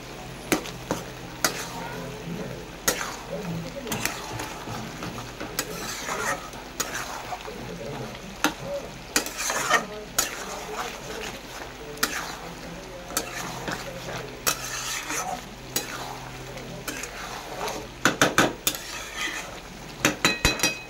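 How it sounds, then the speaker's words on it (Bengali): Mutton stir-fried on high heat in a pan, a steady loud sizzle with repeated scraping and clanking of the spatula against the metal throughout. "মাংসটা এবার কষে নেব। এভাবে কষে নেব, আঁচটাকে জোরে দিয়েই রাখবো।"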